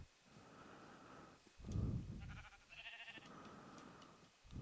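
A few short sheep bleats sound over quiet Minecraft game ambience, with a soft ticking pattern in between.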